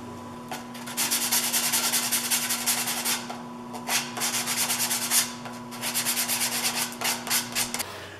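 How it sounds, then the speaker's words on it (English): Hand sanding wood with sandpaper, a run of rhythmic scratchy rubbing strokes at close range over a steady background hum, each stroke rasping in quick succession. "Then I hand sanded everything with 100,"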